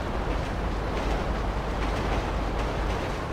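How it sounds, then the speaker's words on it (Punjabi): A video-game train in GTA rolls through an open level crossing, a loud, close, continuous rumble and rattle of wheels and carriages that holds steady without pause. "ਓਏ ਟ੍ਰੇਨ ਆ ਗਈ ਬਾਈ ਫਾਟਕ ਬੰਦ ਨਹੀਂ ਕੀਤੇ ਇਹਨਾਂ ਨੇ"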